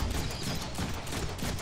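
Dense, continuous rapid gunfire in the Deadpool video game, a loud unbroken fusillade of overlapping shots filling the whole moment with no pauses.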